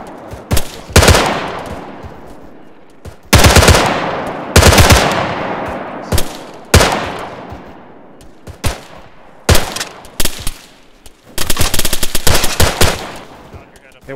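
Bursts of machine gun fire in the military shooter Arma 3, several loud rapid volleys separated by short pauses, each trailing off with echoing reverb.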